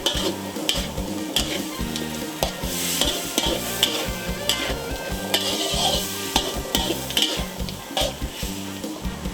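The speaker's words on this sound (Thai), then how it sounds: "ต่อไปก็ใส่ผงปรุงรสลงไปนะคะ ผัดให้เข้ากันดีเลยค่ะ" Frog stir-fried in a pan with sugar and seasoning powder, steady loud sizzling under rhythmic scraping and stirring strokes of a utensil against the pan, close and continuous.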